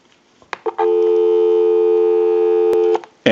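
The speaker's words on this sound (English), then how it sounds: "Go ahead and give you some dial tone." Dial tone on a Spacesaver telephone line, a steady loud continuous tone lasting about two seconds, preceded by handset clicks and followed by another click.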